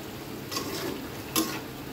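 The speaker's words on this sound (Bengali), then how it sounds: "এবার এগুলোকে হালকা হাতে নেড়ে বেশ কিছু সময় জাল করে" A spoon stirs bitter gourd and potato shukto simmering in a pan, giving two short scraping strokes over a steady low bubbling sizzle, close and fairly quiet.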